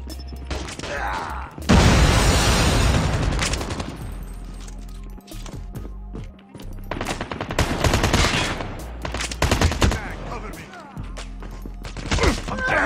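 Call of Duty Mobile combat: a loud grenade blast followed by repeated rapid gunfire bursts and scattered impacts, close and dense throughout.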